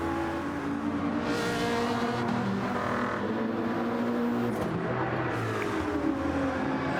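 Race cars battle closely in the Gran Turismo 7 video game at Interlagos, with a Genesis car chasing a Ferrari, their engines droning and revving continuously, loud and steady throughout.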